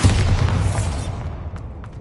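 Bombarda explosion spell from Hogwarts Legacy, a single loud, close, booming blast that fades out over about two seconds, with no voice.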